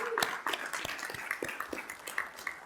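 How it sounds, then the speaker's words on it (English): Scattered, sparse clapping from a small group at a school board meeting, individual claps distinct and fairly quiet, tapering off rather than building. "If you would help me give our school board a round of applause."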